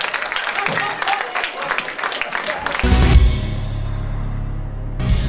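An audience at a French comedy stage show claps in a dense patter that then gives way to loud, bass-heavy music.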